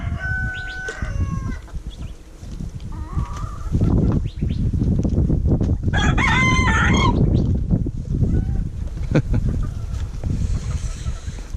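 Rooster crowing among a flock of Icelandic chickens outdoors, with a loud, close cock-a-doodle-doo around the middle standing over ongoing clucking, rustling and background farmyard noise.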